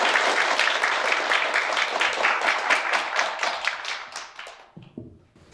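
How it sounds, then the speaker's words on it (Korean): Students at a university natural sciences freshman orientation clap to welcome the dean, a dense burst of many hands that thins out and fades near the end, followed by brief faint sounds. "큰 박수로 맞이해주세요."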